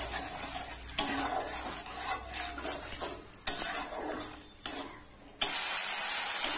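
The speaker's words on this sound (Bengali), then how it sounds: "মশলাটা ভালোভাবে কষাই করে নেব।" Spice paste being stir-fried in a pan for a Bengali fish curry, with scraping spatula strokes and clinks against the metal over a soft steady sizzle, close and fairly quiet.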